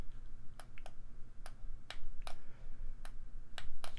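Sharp, dry clicks from the buttons on a Virpil flight joystick grip, about nine separate taps spaced irregularly, some in quick pairs, close and clear over faint room noise.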